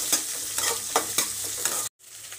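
Green chillies and sliced shallots are stirred in a hot pan, giving a close, rhythmic scrape-and-sizzle repeated every few tenths of a second, then a brief cut to silence before a softer sizzle resumes.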